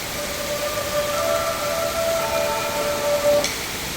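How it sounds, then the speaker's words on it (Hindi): Heavy rain pours in a steady, loud hiss throughout, with a faint siren-like tone drifting through the middle and no voices. "बहुत तेज़ बारिश हो रही है"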